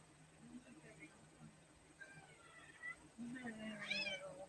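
A female house cat indoors meows a few times toward the end, rising and wavering cries that are faint and thin over a low steady hum.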